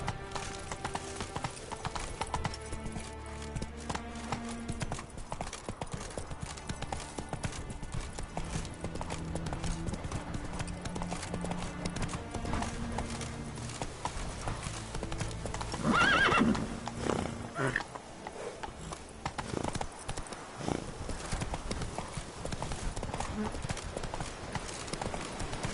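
Roach, a horse in a video game, gallops with steady, driving clip-clop hoofbeats throughout and lets out a loud neigh partway through, with voices talking over the action.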